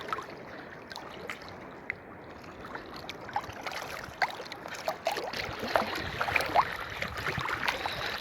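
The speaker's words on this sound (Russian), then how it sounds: "И волны вот такие." Small waves lap at the sandy, pebbly shore of Issyk-Kul lake, soft irregular splashes and slaps rising over a low wash of water and light wind.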